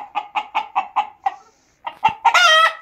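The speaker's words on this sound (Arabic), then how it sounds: "ده اسمه صياح الديك او صوت الدجاج" A rooster gives a run of six short rhythmic clucks, pauses briefly, then bursts into a loud, close crow that rises and holds.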